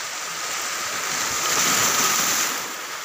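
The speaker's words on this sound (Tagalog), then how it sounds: "Dili kayo wild ang balon." Gentle sea waves at a beach in Tarragona, a soft continuous wash of surf that swells briefly in the middle, with wind on the microphone and no talking.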